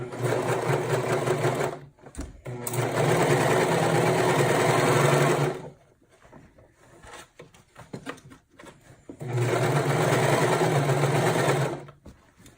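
Sewing machine stitching fabric for a car trash bag, running in two long bursts of rapid mechanical chatter separated by a pause with quieter handling clicks and rustles.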